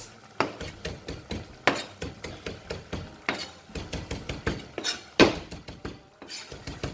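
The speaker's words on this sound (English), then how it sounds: "I'm gonna chop up a tiny bit of parsley, tiny bit," A knife chopping parsley on a cutting board: rapid close chopping taps in bursts, each run a few seconds long, separated by short pauses, with no talking.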